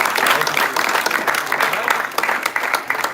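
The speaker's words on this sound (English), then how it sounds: "A round of applause for you." Guests at a basketball post-grad banquet applaud the players with steady, fairly loud clapping that fades slightly toward the end.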